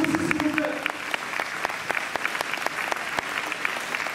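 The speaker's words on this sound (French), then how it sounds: "On peut applaudir aussi, s'il vous plaît" An audience applauds with a dense, steady patter of many hands clapping, sustained and fairly loud, with a brief voice near the start.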